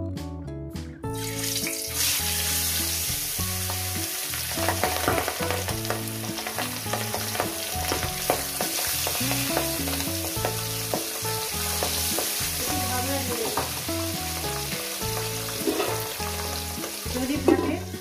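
Pabda fish frying in oil in a pan: a loud, continuous crackling sizzle, close up, with occasional clinks of utensils throughout.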